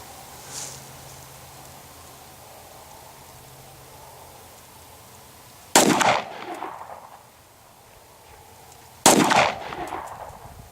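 Two Glock 17 pistol shots fired at 50 yards at an outdoor range ring out a few seconds apart, each a sharp loud crack with a short echoing tail over quiet background.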